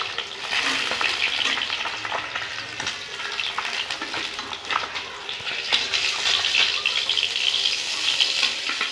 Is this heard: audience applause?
no